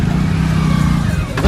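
A Hero Splendor motorcycle pulling out of a parking spot at a busy market, close and loud as its engine hums and revs steadily, with voices talking over it.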